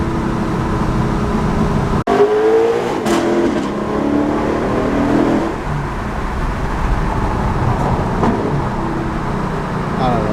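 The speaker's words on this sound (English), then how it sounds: "you can downshift, and then you can really hear the exhaust come alive" A Lexus LC500's exhaust roars after a downshift, a loud steady engine rumble with rising revs and a sharp pop, heard from close by the car.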